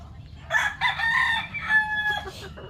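A rooster crows in a long, wavering call, with hens clucking around it against a low rumbling background.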